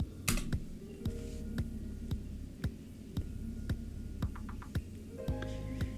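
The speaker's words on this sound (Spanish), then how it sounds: "Vamos a hacer clic en enter." Keys on a computer keyboard being pressed, a steady series of crisp, close clicks at roughly even intervals over a faint electrical hum, with no talk.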